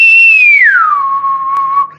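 A whistled tone starts high, glides smoothly down to a lower pitch, and holds there briefly before fading; loud and close.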